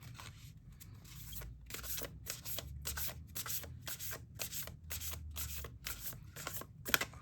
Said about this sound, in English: I always wanted cards to be shuffled in this way